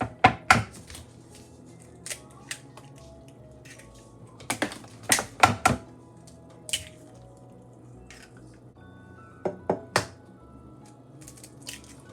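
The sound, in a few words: eggs being cracked into a bowl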